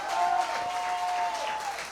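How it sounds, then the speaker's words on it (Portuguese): A church congregation at an anniversary service applauds in a steady, fairly quiet wash of clapping, with a sustained musical tone running underneath. "Você pode aplaudir mais forte ao Senhor."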